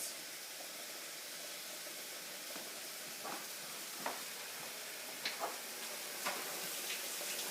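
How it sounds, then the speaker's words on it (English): Quinoa cooking in a pan, a steady broad sizzling hiss with a few soft pops and ticks scattered through it, close and even. "Just cooking my quinoa here."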